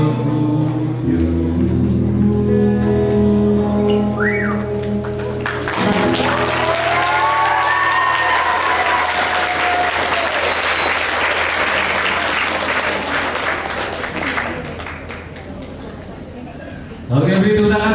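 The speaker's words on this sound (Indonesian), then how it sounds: "Oke, beri tepuk tangan sekali lagi untuk" Audience applause at a theatre performance in an IAIN campus hall, loud sustained clapping from a large crowd, building and holding for many seconds, with music and voices at the start and a speaker at the end.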